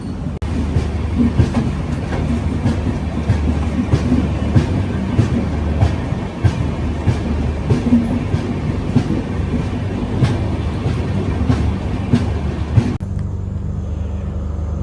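A Secunderabad to Goa passenger train sits at Dudhsagar station, giving a loud, continuous rumble with faint rhythmic clicks running throughout, then the noise drops sharply near the end.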